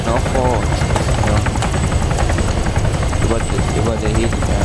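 A helicopter flies overhead in the military video game Arma 3, its rotor thrumming steadily and loudly throughout, with voices talking over the continuous engine drone.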